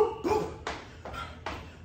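A person voices a barking, seal-like imitation during seal jack exercises in a cable row and pull-up Tabata workout, giving three or four short, loud yelps in a steady rhythm.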